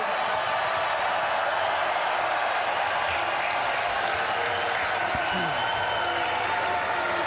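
A large crowd at the NFL Draft cheering and applauding in a dense, steady roar that holds at full loudness from start to finish.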